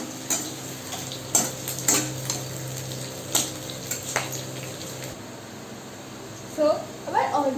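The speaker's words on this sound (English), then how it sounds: "we will fry the onion petals till it is translucent" Onion petals frying in hot oil in a home kitchen while cooking bhindi do pyaza, giving a steady low sizzle broken by stirring clinks and scrapes of utensils against the pan, with a few brief sharper knocks near the end.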